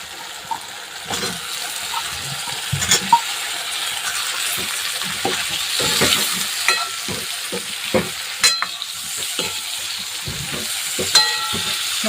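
Eggplant pieces and pre-steamed potatoes sizzle in a hot pan for a home-style vegetable dish, with a steady broad frying hiss broken by repeated scraping and clinking stirs of a spatula, close and fairly loud throughout.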